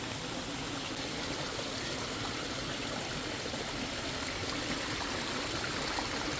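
A forest stream of clear water flows in a steady, continuous rushing babble, close by and unbroken throughout.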